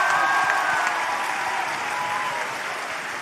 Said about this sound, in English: why don't we give a big round of applause for everyone watching at home?